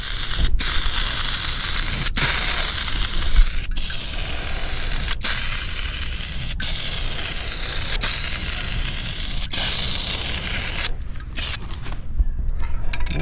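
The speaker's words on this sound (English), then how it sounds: "when I was spraying the door and I went past the door and I let off" Rust-Oleum spray paint hisses from the can onto a door panel in long continuous bursts, broken by brief gaps where the nozzle is released, close and steady throughout, with a sharper clicking pause near the end.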